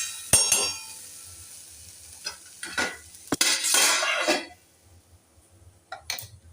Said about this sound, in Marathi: आता पुन्हा एकदा यांना परतून घेते आणि झाकण ठेवून देते।